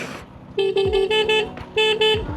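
A car horn honks in short repeated blasts, loud and close, with a brief pause between two bursts.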